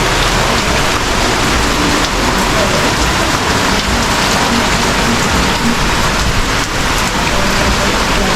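Heavy rain falls steadily, a loud, dense, unbroken hiss of drops on surfaces that fills the whole stretch without pauses or voices.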